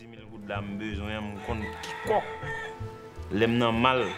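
A fighting rooster in Haiti crows repeatedly, with loud, close cock-a-doodle-doo calls and rising harmonic sweeps, mixed with clucking from other fowl and faint background noise.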